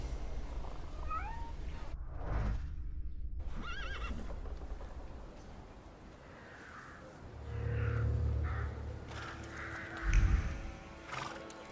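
A horse whinnies loudly in the video game The Thaumaturge, with a meow-like animal cry and some clopping hooves against a busy game-style background of ambient sound and music.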